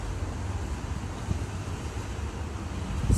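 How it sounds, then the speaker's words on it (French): Strong wind blowing across a sandy seaside in Fiji, a steady, loud low roar with continuous gusty rumble filling the whole stretch and swelling slightly at the end. "Regardez le vent qu'il y a."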